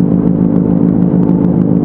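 A Yamaha R1 sport bike engine running a little hot on a ride, producing a constant loud mid-range drone with fine clattering pulses and a faint rising whine, no voices present.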